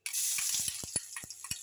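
Garlic drops into a hot pan for pinakbet and sizzles with a bright, close hiss, punctuated by several soft knocks and stirring thumps.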